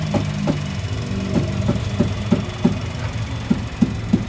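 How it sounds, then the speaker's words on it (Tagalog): A Suzuki Hustler engine idling smoothly with a low, even hum, punctuated by a regular series of light ticking knocks roughly every third of a second, close by and alone. "Napaka silent ang kanyang andar sa kanyang engine mga boss"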